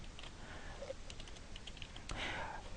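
Light, quick keystrokes on a computer keyboard, faint and scattered clicks over a quiet room background.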